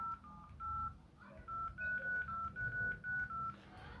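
A BlackBerry Torch phone plays a quick run of dialing tones: short beeps at first, then a string of longer steady tones in an even rhythm, close and clear over a low background rumble.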